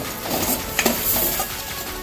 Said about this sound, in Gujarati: હવે મિક્સ કરી લઈશું બરાબર.